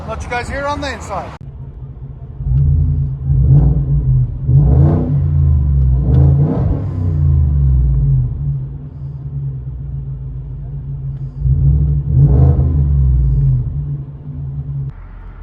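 Deep, steady rumble of a 2020 Ford F-150 5.0 liter Coyote V8 with resonator kept, everything else deleted and a dual-tip side pipe, heard from inside the cab, rising in several revving swells over a continuous low drone.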